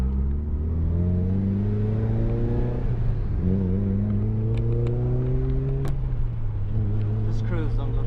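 Car engine droning and rising through the gears while following a modified 300-horsepower Mazda Miata on a road, a steady close hum with repeated pitch climbs and shifts, plus occasional clicks.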